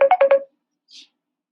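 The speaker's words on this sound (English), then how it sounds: "phone was ringing there" A phone ringtone sounds in a quiet room, a quick burst of four bright electronic tones followed by a brief faint chirp, loud and close with silence around it.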